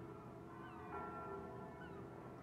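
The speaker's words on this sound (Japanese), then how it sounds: "教会の鐘。" A church bell tolls in the video game Tokimeki Memorial Girl's Side 4, its ringing tone sustained and fairly faint over a soft background.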